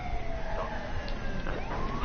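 A wailing emergency vehicle siren in the video game Watch Dogs 2, steady and continuous with rising and falling tones over a constant engine-like rumble, with no talking.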